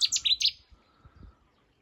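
Small bird at a wetland fen gives a quick run of four or five high, bright chirps close by, then falls silent with faint background noise.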